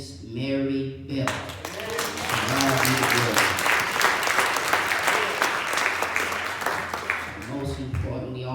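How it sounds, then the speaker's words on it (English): A church congregation gives a round of applause for a woman at a service, the clapping swelling up after a voice speaks, then continuing steadily with sung or spoken voices over it and at the end. "let us once again give a round of applause for Miss Mary Bell"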